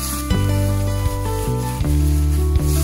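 Olive oil, vinegar, lemon juice and garlic paste marinade being stirred and mixed, giving close, wet, clicking stirring strokes in a steady rhythm, with no talk.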